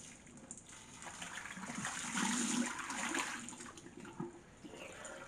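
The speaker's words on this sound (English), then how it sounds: "Let's just pour this out." Liquid is poured out of a battered nine-year-old thermos flask in a steady splashing gush that swells in the middle and then tapers, close and moderately loud, with no talk.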